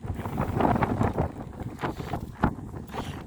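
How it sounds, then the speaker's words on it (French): Stormy wind buffets the microphone at a stadium construction site in Le Havre where earth mounds have been removed, a steady roaring rush with gusty surges and no talk. "C'est vraiment la tempête."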